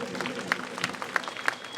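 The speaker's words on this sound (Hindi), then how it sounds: "जरा जोरदार तालियां बजा दो भाई नेगी जी के लिए।" Crowd clapping at an outdoor political rally in India, a dense wash of many hands with a few sharper claps standing out over a short stretch, moderately loud.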